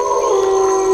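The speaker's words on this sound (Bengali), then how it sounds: "ঠিক এই সময় আশেপাশের ঝোপের মধ্য থেকে শেয়ালগুলো চিৎকার করে উঠল।" A jackal's long wavering howl rings out for about a second, a steady tonal cry standing alone as a sound effect in a narrated Bengali story.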